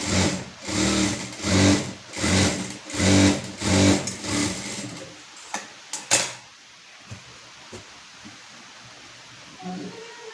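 A sewing machine stitches cups onto princess-cut blouse fabric in several loud, rhythmic bursts of running motor, followed by scattered faint clicks and handling sounds.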